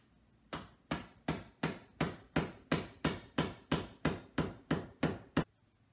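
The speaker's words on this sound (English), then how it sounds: "I got myself a rubber mallet and I'm going to hammer it in." Twelve evenly spaced, solid rubber mallet blows on a metal pipe ring out one after another, each a sharp knock with a short decay, close and fairly loud.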